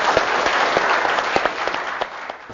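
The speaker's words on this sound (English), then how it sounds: "Let's have a bigger round of applause for Team DNA" An audience at a business presentation on Shoppers Stop's private label gives Team DNA a round of applause, steady dense clapping from a sizable crowd that tapers off slightly toward the end.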